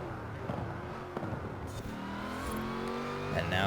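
Race car engines roar in Forza Horizon as a Ford GT and a Porsche run a reservoir straight, a steady revving drone with rising pitch sweeps and shifts, fairly loud and continuous, no talk over it.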